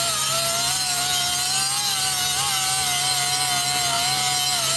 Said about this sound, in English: So we're going to try and grind this smooth.